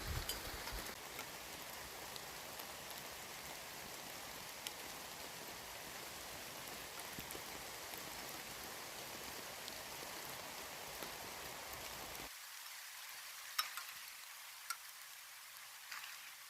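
Heavy rain drums steadily on a 3×3 tarp tent in the woods, a dense continuous patter with occasional louder drips, running alone at close range before the low end suddenly drops away near the end.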